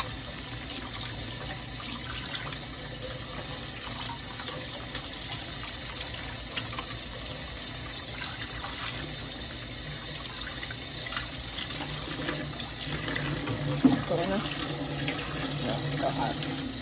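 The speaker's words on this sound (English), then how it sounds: "because orzo is so gentle, we want to wash it to stop it from cooking." Running tap water gushes steadily into a sink as cooked orzo pasta is rinsed, a constant close hiss of flowing water with a few clinks and faint talk in the background.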